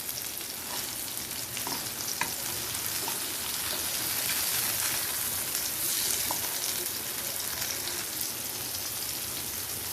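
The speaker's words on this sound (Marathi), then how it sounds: "थोडा वेळ हाय टू मीडियम फ्लेमवर आपण एक बाजू शेकून घेणार आहोत" Large surmai fish pieces fry in a pan over a medium-high flame, making a dense, even sizzle and crackle that holds steadily throughout, close and moderately loud.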